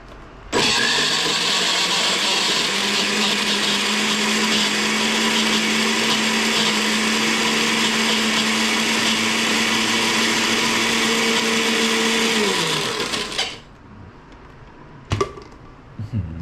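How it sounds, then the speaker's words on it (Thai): A blender whirs loudly at a steady high pitch for about twelve seconds, blending fish with boiled water, then cuts off, followed by a couple of brief clicks. "เครื่องปั่นเทพมาก"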